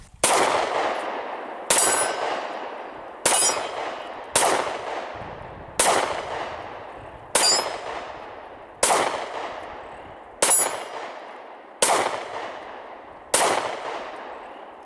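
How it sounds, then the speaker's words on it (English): A SIG P365 NRA Edition pistol fires ten evenly spaced shots at steel targets. Each report is sharp and loud, with a ringing tail that fades before the next shot, and there is no talking. "Shooting steel from this distance"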